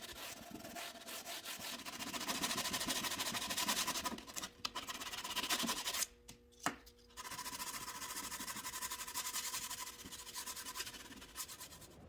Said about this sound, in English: I'm going to use a sanding block and some 50 grit paper to sand everything flush